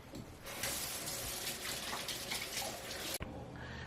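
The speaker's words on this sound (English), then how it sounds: "I'll wash my hand first." A water tap runs steadily into a sink for about three seconds while hands are washed, a close, continuous rushing splash that cuts off abruptly near the end, leaving quiet room tone.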